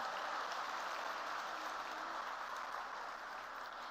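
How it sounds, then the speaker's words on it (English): Steady applause from an event audience at a university ceremony, a dense even wash of clapping that holds at a moderate level for several seconds without any voices standing out. "A big round of applause for everyone."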